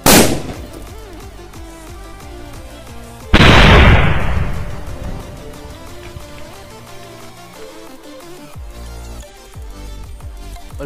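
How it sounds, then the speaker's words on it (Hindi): A Laxmi bomb firecracker set off inside a hole in the ground blasts twice, first one sharp loud bang, then a bigger boom a few seconds later that rings out and decays, followed by quieter crackling. "नेक्स्ट हम टेस्ट करने वाले लक्ष्मी बम को"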